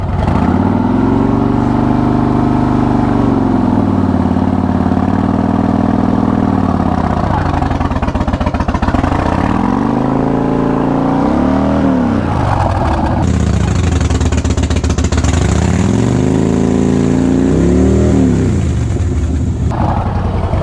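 A Harley-Davidson motorcycle held against a wall with the brake on does a burnout, its engine revving hard in repeated loud surges and dips over a steady roar, with tire spin hiss rising in the second half.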